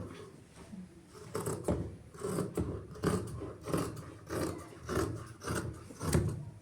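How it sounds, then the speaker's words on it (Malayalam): Scissors cutting through a churidar fabric piece, a series of about eight rhythmic rasping snips close up, each a short crisp scrape, quiet and alone. "ഈ പീസിനെ ഇങ്ങനെ കട്ട് ചെയ്ത് മാറ്റുക."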